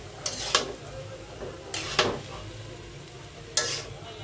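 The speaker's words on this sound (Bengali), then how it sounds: "এখন আমি চালটা নাড়াই চাড়াইয়া দিব।" Rice for zarda, a sweet wedding-style rice dish, being stirred in a pan: three or four brief scraping strokes with short gritty rustles, fairly close and moderate in level, with quiet gaps between.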